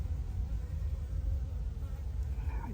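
Honeybees hum steadily around an open beehive during an inspection, a dense, continuous low buzz that stays close and even, with no talking.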